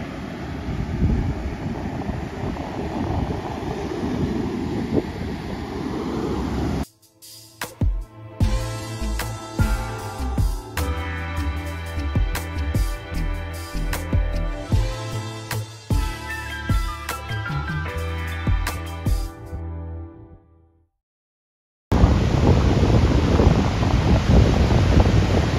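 Big ocean waves break at a white sand beach in a loud, roaring rush with heavy wind buffeting the microphone, cut by a musical interlude partway through before the surf roar returns.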